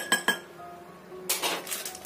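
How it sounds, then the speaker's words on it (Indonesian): Spoon clinking against a bowl while a cornstarch and water mixture is stirred for a Chinese-style green vegetable dish, two sharp close taps followed by a busier burst of scraping and clinking. "Kita aduk sampai semua bahannya ini larut"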